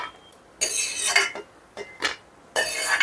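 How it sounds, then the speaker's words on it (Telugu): Ghee-fried cashews are scooped from a pan into a bowl with a metal utensil, making several short clinks and scrapes in quick bursts with quiet gaps between them. "ఇప్పుడు తీసి ఒక గిన్నెలో తీసేసుకుందాం"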